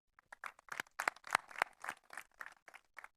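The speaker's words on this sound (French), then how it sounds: "Vous pouvez l'applaudir, s'il vous plaît." Scattered applause from a small audience at a stage magic show, welcoming a volunteer named Aurélie onto the stage; claps arrive in irregular bursts, moderately close, with no voices over them.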